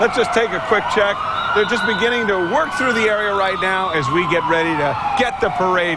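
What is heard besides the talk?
sirens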